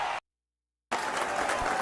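Crowd applause sound effect played during a live stream, a short burst of clapping that cuts out into silence and then resumes, loud and close.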